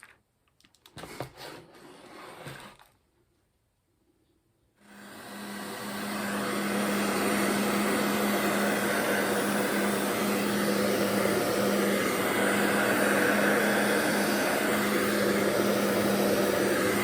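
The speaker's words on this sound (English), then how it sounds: "I got my ALDL 12 volt soldered together and heat shrinked off" A heat gun starts up after a few clicks and handling noises, then blows a steady, loud whooshing hum while it shrinks heat shrink tubing over soldered wiring on an LS swap harness.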